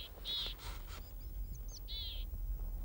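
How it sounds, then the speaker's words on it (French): Tits sing outdoors on a mountain hike in the Alpes-Maritimes, with a few short, high, clear phrases and chirps repeating over faint background noise. "Là on entend des mésanges en ce moment."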